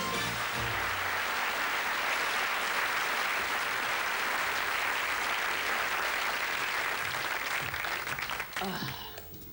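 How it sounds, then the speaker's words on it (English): A studio audience at a comedy magic game show gives a loud, sustained round of applause that is thick and unbroken before tapering off at the close. "I think that deserves a round of applause."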